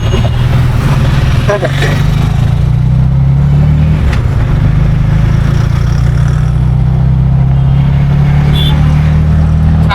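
Auto rickshaw driving to a room, its mid-pitched engine droning steadily and close throughout, with road rumble and occasional clicks, while people talk over it.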